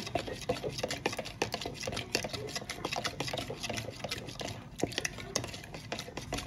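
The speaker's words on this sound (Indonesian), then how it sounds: "Lalu ini diaduk hingga larut." A utensil stirs sugar water and agar-agar powder in a pot until dissolved, with repeated scraping and clinking strokes in a quick, uneven rhythm close by.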